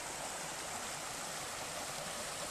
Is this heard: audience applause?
no